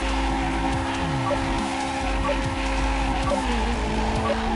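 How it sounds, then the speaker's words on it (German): Tires squeal continuously as a car drifts in the racing game Ridge Racer Unbounded, a loud sustained screech layered over a steady engine roar and game music. "zieh nochmal einen guten Drift hinterher"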